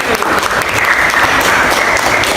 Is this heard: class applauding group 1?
yes